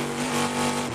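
Steady, loud drone of an aluminum-block, titanium-valve V8 race car engine held at full revs during a sports car race, a sustained tonal roar without a break.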